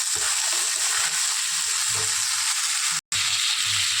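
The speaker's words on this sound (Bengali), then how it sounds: "এবার নুন দিয়ে ভালো করে ভেজে নেব" Small fish crackle and sizzle in hot oil with salt, a dense steady frying hiss broken by soft spattering pops and one abrupt instant of silence.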